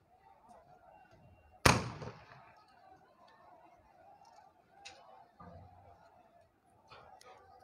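A single sharp loud bang rings out as police fire on protesting farmers in Hisar, followed by a few fainter distant pops over a murmur of crowd noise and chatter.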